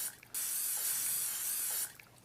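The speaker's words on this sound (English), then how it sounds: "give them a spritz of cooking spray" A can of cooking spray gives a single close, sustained hiss of about a second and a half as it mists over wrapped food on a cookie sheet, with faint background noise before and after.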